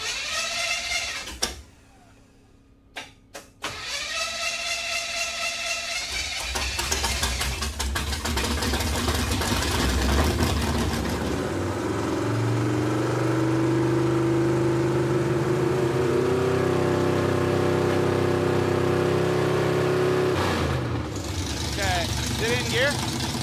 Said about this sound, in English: The engine come out of a 69 C10, so should make a pretty good combo there now.